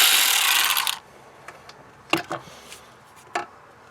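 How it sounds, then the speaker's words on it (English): A 10mm ratchet loosens the transmission dipstick bracket bolts on a Nissan Titan, a short loud burst of noise at first and then a few sharp, sparse metallic clicks and taps close by. "Let's grab a 10mm to remove this transmission dipstick"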